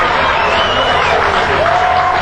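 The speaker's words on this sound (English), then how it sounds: "So now the fans are celebrating and cheering." Baseball crowd cheering and celebrating a home run in the bottom of the ninth inning, a broad continuous roar of voices and whistles that holds steady at moderate volume, heard from a distance.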